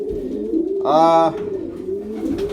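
Pigeons in a loft housing about 32 birds give a single clear, close coo lasting under half a second, with a steady lower hum of other birds murmuring and shuffling throughout.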